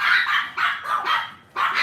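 A dog barks repeatedly indoors, four loud, close yips and barks in quick succession with brief gaps between them.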